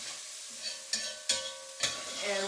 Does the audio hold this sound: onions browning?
yes